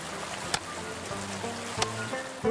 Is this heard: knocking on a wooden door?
no